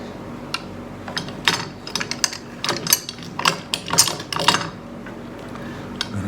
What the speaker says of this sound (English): I'm going to take off those little quarter clamps now.